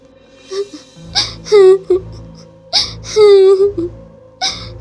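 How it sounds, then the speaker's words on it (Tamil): A ghostly child-like wailing in a cartoon ghost story, repeated drawn-out crying moans in two bursts with short whimpers between, close and fairly loud over a low background tone. "ரொம்ப நேரமாக ஏதோ ஒரு குழந்த அழுகிற மாதிரியே சவுண்டு கேட்குது"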